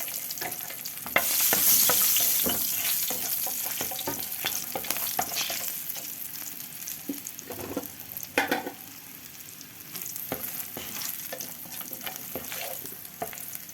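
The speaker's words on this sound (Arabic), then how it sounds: "وهنيجي على طاستنا الحلوه دي ونحدف هنا فص توم" A garlic clove fries in a hot pan with a steady, close hiss and crackle. Occasional scraping and clicking from stirring break through the sizzle.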